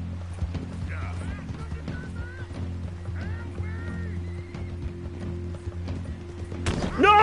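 Horse hooves clip-clopping in Red Dead Redemption 2, with steady hoofbeats, tack rattling, neighs and whinnies, and a player shouting, ending in a loud burst.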